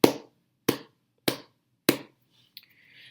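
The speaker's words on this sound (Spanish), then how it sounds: "palmas sordas, donde las dos palmas ligeramente ahuecadas se aplauden" Muffled flamenco palmas sordas, two slightly cupped palms clapped together for a dull padded sound: four evenly spaced, close claps, then a fainter short tap and a light rustle.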